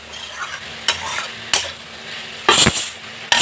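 Potatoes stir-fried in a pan for a Bhojpuri sem aloo sabji, with a steady soft sizzle broken by several sharp scraping strokes of a spoon against the pan, one longer and louder near the end.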